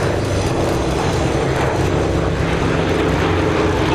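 A B-17 bomber flies over Sywell Aerodrome during the Sywell Airshow, its engines producing a loud, steady droning rumble that holds constant without a break.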